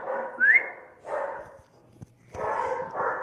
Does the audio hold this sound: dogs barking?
yes